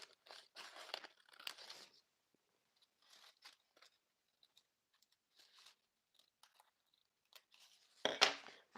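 Scissors snipping through crepe paper while making a Santa Claus craft, with several close, crisp cutting bursts separated by quiet pauses and a louder crinkling snip near the end.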